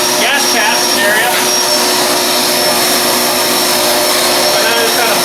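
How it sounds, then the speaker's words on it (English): Loud, continuous rushing air roars close by with a steady whine, like a vacuum or blower, blowing through the fuel tank of a Ford 2N tractor, with brief talking at the start. "quite a bit of air blowing out there"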